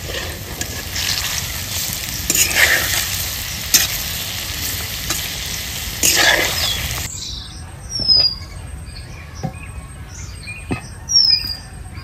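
Palm fritters (taler bora) fry in hot white oil, giving a steady crackling sizzle with louder bursts as they are stirred and turned. The frying fades partway through, leaving scattered faint scrapes and bird chirps.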